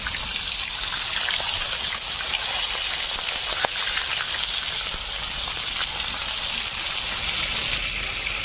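Pangas catfish frying in hot oil in a village cooking setting, a loud, continuous hissing sizzle close by, steady throughout with one brief crackle and no talking.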